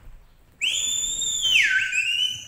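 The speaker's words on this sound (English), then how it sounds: "So, I've got three whistles here." A single shrill whistle blast sounds loud and close, holding a steady high pitch before sliding downward in tone and sustaining until the end.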